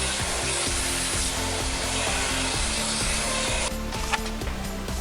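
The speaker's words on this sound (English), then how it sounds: "you can use the vacuum and actually clean it" A vacuum cleaner cleans a Honda Civic cabin pollen filter, its motor a loud, steady roar with a hissing airflow that holds constant, then shifts in tone near the end as the nozzle moves.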